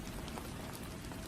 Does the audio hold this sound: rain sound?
yes